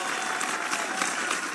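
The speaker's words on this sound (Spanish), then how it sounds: "Los aplausos fuertes por la eterna niña bonita de papá y de mamá." A family applauds at a birthday serenade for a girl, a short burst of fairly quiet clapping from a small group, mixed with some talk.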